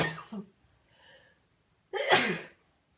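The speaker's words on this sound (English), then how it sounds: "Oops, sorry, I've got to sneeze" A single loud sneeze bursts out after a short sharp intake of breath, close up, with a soft breathy sound in between.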